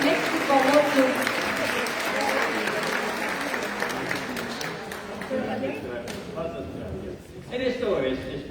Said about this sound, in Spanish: Lo recibimos con este fuerte aplauso y con mucho cariño